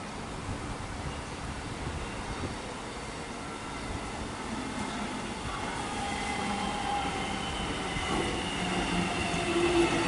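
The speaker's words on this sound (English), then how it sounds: "we've got a Glen Waverley service arriving." Glen Waverley line suburban train pulling into Mount Waverley station in Melbourne, a steady rumble of wheels and carriages that grows slightly louder as it nears, with faint squeals; no voices.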